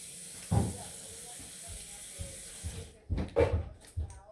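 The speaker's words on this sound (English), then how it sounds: "I'm just adding water to this." Water is poured into grated coconut to make coconut milk, a steady soft splashing stream under low background noise, with a few louder handling sounds and brief voice moments toward the end.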